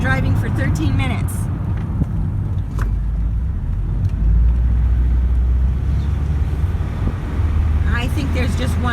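Steady car road noise throughout a drive through El Rio, a continuous low rumble of engine and tyres with some wind, while a person talks over it.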